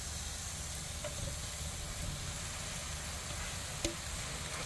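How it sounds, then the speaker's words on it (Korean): Dried pollack strips stir-fry with chili flakes in a pan, giving a steady, close sizzling hiss throughout with a few faint scraping clicks of stirring. "다시 한번 이렇게 볶아주세요."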